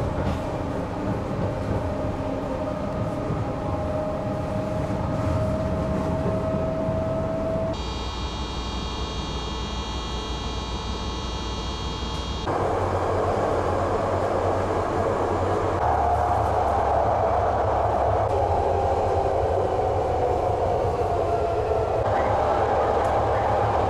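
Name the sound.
BART train running through tunnels and stations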